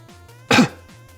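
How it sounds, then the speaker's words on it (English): A single sharp, close cough-like burst, caught between a sneeze and a cough, erupts briefly in a quiet room and fades quickly. "that was my body was trying to decide if that was a sneeze or a cough."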